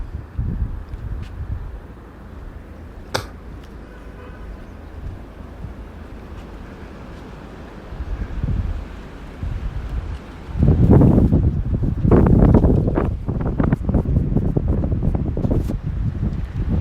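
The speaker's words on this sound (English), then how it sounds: "Getting a lot of wind today" Strong wind gusts outdoors buffet the microphone, a steady low rumble with a few brief knocks that swells into heavy, loud roaring blasts in the second half.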